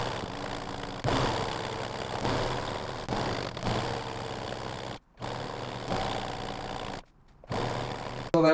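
A sewing machine stitches a thrifted bedsheet in several steady bursts of motor whirr, stopping briefly between runs, close and fairly loud with no talking.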